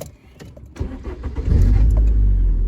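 A 2004 MG TF 1.8 sports car engine cranks and catches, then settles into a loud, steady rumble, preceded by faint clicks and rustling up close.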